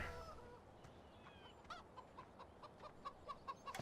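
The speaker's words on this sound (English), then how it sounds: "Let's hop the fence and aha, chickens." Chickens clucking on a farm in the video game Farming Simulator 17, a faint run of short repeated clucks growing slightly louder over a quiet ambient background.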